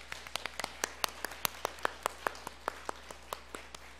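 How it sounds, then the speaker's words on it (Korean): A church congregation at a Sunday worship service claps in a fairly regular rhythm, distinct sharp claps at a moderate distance against a quiet hall with a low steady hum. "우리 하나님께 영광의 박수 한번 올려주시죠."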